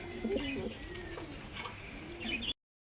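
Pigeons coo in low, soft, repeated calls close by, continuing steadily until the sound cuts off abruptly.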